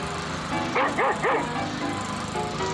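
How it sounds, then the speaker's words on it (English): A dog's three quick barks in a comedy song recording, close and clear over a steady droning background, with a short pause before faint tones resume. "there's that Rover now. Rover, get out of here"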